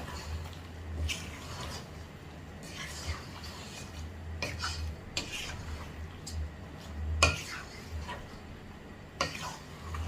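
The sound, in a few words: stirring chicken potato curry with a ladle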